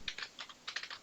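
Short bursts of computer keyboard typing while C code is written, a few quick clustered key clicks close by and fairly soft, no talking.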